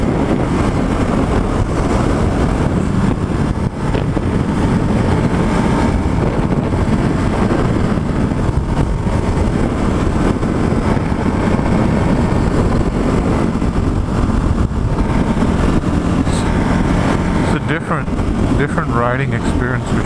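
A Ducati Hypermotard motorcycle accelerates toward freeway speed, its engine and wind roar steady and loud throughout, with a rider speaking over the noise.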